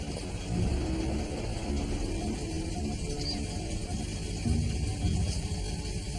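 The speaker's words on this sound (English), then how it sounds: "The car's running." Steady low rumble of a car engine running inside an enclosed space, a continuous close drone with slight swells and no voices over it.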